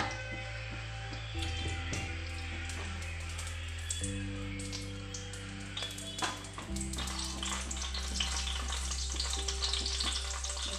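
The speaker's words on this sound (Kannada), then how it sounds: "ಈರುಳ್ಳಿ ಈರುಳ್ಳಿ ಶೋಕ್ ಫ್ರೈ ಆವಡು ಕೆಂಪು ಕಲರ್ ಆವಡು" Chopped onions sizzle steadily in coconut oil in a kadai, with a continuous frying hiss and occasional stirring scrapes and clinks close by, and a low hum underneath.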